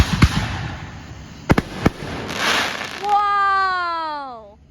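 Fourth of July fireworks bursting outdoors: a few sharp cracks and booms, then a rising whistling rocket with a long tonal squeal that fades, fairly loud over outdoor background noise.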